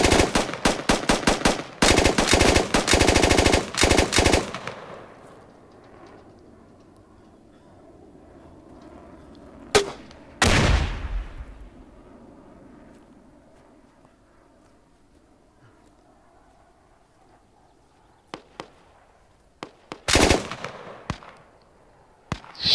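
Gunfire in the pre-alpha build of the shooter game Squad: a fast, loud automatic burst opens, then a quieter lull, with single sharp shots and a short burst later, all near and without speech.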